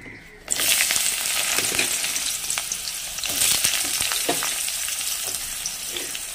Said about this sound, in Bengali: এই তেলে আমি আবার বেগুন ছেড়ে দেবো